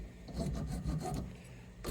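A bone guitar saddle is rubbed and shaped against an abrasive surface in short back-and-forth strokes, a close, quiet rasping scrape with a brief louder burst at the end.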